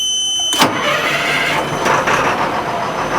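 An LMTV military truck with an Allison automatic transmission and push-button start, no key: a sharp crank burst catches quickly into a loud, steady diesel idle that rumbles on close by with a slight rev swell, no talking.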